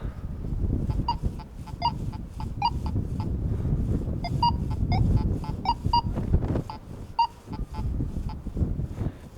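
A Koschei X45 metal detector sounds over small gold jewellery, a cross, earring and chain, giving stuttering short beeps in uneven bursts over steady outdoor wind rumble and scraping handling noise.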